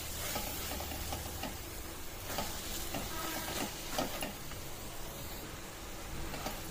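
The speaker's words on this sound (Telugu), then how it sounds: "ఇప్పుడు ఈ స్టేజ్లో మనం జస్ట్ ఇలా మిక్స్ చేసుకోవాలి." Spring onion and egg fry sizzles steadily in a pan while a utensil stirs and scrapes through it, making soft, irregular scraping bursts over continuous frying hiss.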